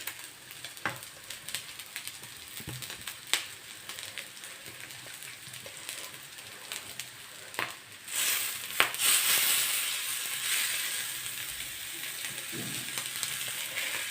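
Small omena fish fry in a pan, a steady crackling sizzle with a few stirring knocks, then a louder, hissing surge around the midpoint as tomatoes go in, continuing bright and close.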